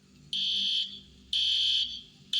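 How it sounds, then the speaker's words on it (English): A loud, piercing fire alarm blares in long sustained bursts, each lasting about a second, separated by short silent gaps. "all of a sudden, an alarm started blaring"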